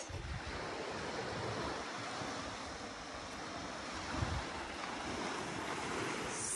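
Surf rolling onto a beach at sunset, a steady broadband wash of breaking waves with wind rumbling over the microphone, continuous and fairly loud with no voices.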